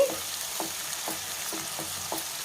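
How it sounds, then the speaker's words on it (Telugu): Thinly sliced cauliflower fries with a little salt in a pan, a steady low sizzle with regular spatula scrapes and light clinks recurring about every half second. "బాగా కొంచెం సాల్ట్ వేసి వేయించుకుంటే చక్కగా వేగుతాయండి"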